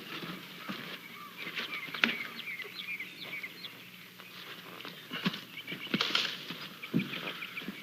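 A pony walks outdoors under steady birdsong, its hooves making a few sparse, irregular clops at moderate distance.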